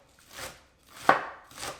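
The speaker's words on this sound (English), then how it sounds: "we're going to prep our green onion for garnish" Knife chopping green onion on a cutting board as garnish for a chicken and sausage gumbo: three close, distinct chops spaced roughly half a second apart, clear and alone with no speech.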